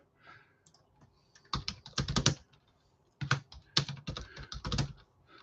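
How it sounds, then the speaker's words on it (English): Typing on a computer keyboard while jotting a quick note, quiet nearby clatter in two short flurries of keystrokes separated by a pause. "let me type a quick note."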